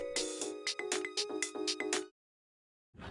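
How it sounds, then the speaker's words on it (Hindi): A phone rings in a home in rapid repeated electronic trills for about two seconds, then falls silent before a brief other sound at the end. "तुम्हारा फोन बज रहा है।"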